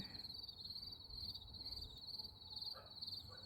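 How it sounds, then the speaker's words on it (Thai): Crickets chirp at night in a vegetable garden, a constant faint high trill that carries on with no gaps. Quiet background noise sits beneath it. "มาฟังเสียงจิ้งหรีดในสวนผัก ร้องตอนกลางคืนค่ะทุกคน"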